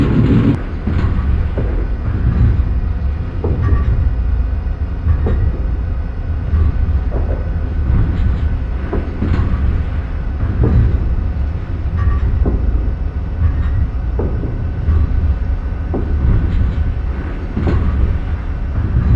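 The Amtrak Carolinian passenger train runs at about 90 mph, a loud, continuous low rumble and roar from on board with a rhythmic clack of wheels over rail joints repeating every second or so.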